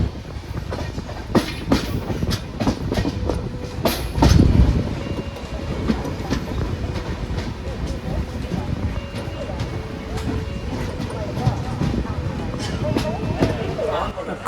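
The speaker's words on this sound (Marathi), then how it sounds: "ट्रेन जस्ट पोचली आहे चिपळूण रेल्वे स्टेशनला" A Konkan Railway train pulls into Chiplun station with a steady rumble of coaches and rhythmic clickety-clack over the rails, a louder thump partway through, while people talk nearby on board or on the platform.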